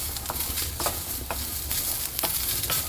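Chopped onion sautés in oil in a pan over a wood-fired stove for Kolhapuri chicken, giving a steady close sizzle broken by frequent scraping stirs and clinks, with no voices.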